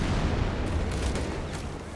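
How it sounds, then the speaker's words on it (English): A Flak 46 anti-aircraft gun firing incendiary rounds in Company of Heroes 3, a dense rumbling barrage of muffled booms and crackle blending into continuous battle noise. "incendiary ammo firing rounds there out of the Flak 46"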